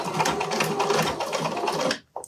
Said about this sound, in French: Donc on va coudre et on va vérifier.